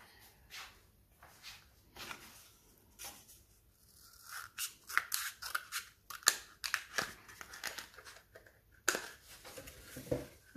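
Scissors cut through paper rolls for a craft project, a close series of crisp irregular snips and rustles that grow busier and louder, with occasional handling noise and no talking.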